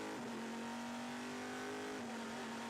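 Race cars at the Zolder circuit during a Dutch Supercars round, with one car outbraking a Porsche: a steady, loud engine drone with a sustained tone that dips slightly, unbroken and with no voices.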